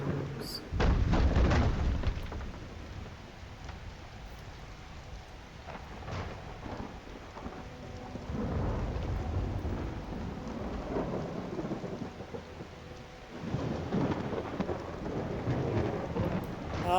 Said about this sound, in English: Thunderstorms. I love thunderstorms.